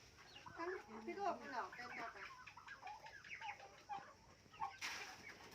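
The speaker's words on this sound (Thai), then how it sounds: "เสียงไก่งวง" Turkeys gobble and cluck in a busy, overlapping chorus, fairly faint, with a sudden hiss of noise near the end.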